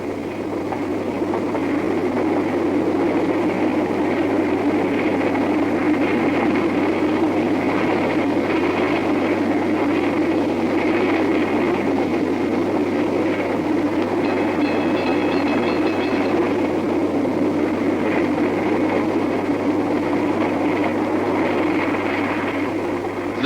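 Steady rumble of a moving steam train with a low engine drone and faint rail clatter, continuous and loud without any clear change in pace.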